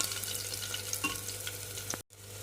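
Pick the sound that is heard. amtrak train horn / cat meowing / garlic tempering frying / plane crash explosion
garlic tempering frying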